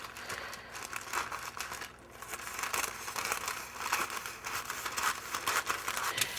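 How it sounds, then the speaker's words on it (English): Parchment paper being measured and cut for a baking tray, continuous close crinkling and rustling with a few crisp snips, moderately loud throughout. "with my parchment, let's just measure out a piece there"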